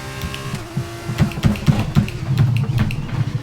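An F2 car in F1 22 bottoms out at Portimao: a rapid series of loud, uneven thumps and scrapes over a low engine drone.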